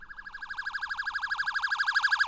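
A loud, close electronic siren warbles rapidly and evenly up and down, holding a continuous fast wail that swells slightly louder over its length, with no talk.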